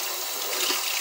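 Water runs steadily from a kitchen tap into the sink during dishwashing, a constant close, full hiss of flowing water with no pauses.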